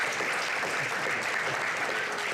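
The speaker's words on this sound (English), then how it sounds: "let's give them another round of applause" Steady, dense applause fills a city council meeting in Las Vegas, a continuous even wash of many hands clapping with no breaks.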